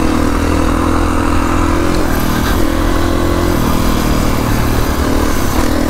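Kawasaki KX450X dirt bike engine running while riding on sand in cold weather, a loud, close, continuous buzzing drone with small shifts in pitch and no talk.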